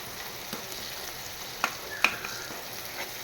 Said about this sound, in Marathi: मस्त असा कांदा टोमॅटो शिजतो आहे